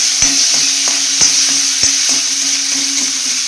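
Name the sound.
sautéing mixed vegetables in pan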